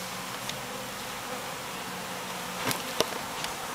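A steady, hazy buzz of many honey bees at a barn hive fills the air, continuous and fairly close, with a few faint clicks and taps.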